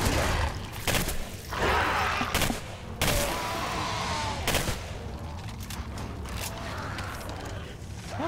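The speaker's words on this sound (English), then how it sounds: "Oh, I like this gun." Bursts of gunfire from an AR-9 Valreiki rifle in the shooter game Singularity, several loud rapid volleys with sharp impacts and mechanical clanks across a noisy battle scene.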